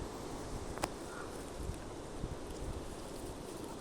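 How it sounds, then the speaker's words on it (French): Steady wind blows past the microphone over grass near a henhouse, with a few raindrops falling, a soft broad rush with occasional faint knocks and rustles, no voices. "Quelques gouttes de pluie, mais surtout pas mal de vent."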